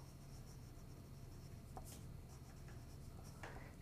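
A pencil lettering on a paper envelope gives a faint, continuous scratchy rasp with a couple of slightly sharper strokes, quiet and close, with no talk.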